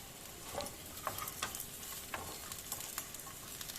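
Eggplant pieces frying with pointed gourd in a hot pan for a Bengali mixed-vegetable dish, a steady soft sizzle under faint scraping stirs that come in light irregular clicks.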